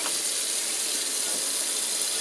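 Warm tap water runs steadily into a sink while greens are washed, an even, close rushing splash with no voices.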